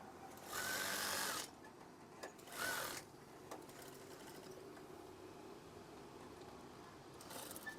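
A sewing machine stitches curtain fabric in two loud, steady whirring bursts, then a shorter run after a pause, with quiet handling noise between and no talk.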